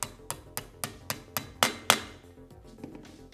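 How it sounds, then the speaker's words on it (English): A Columbia angle head part being tapped down into place over two slots, a series of about eight crisp metallic hammer taps at a steady rhythm, growing slightly louder before trailing off, close and clear. "place it over top of the two slots, center it, and tap it down"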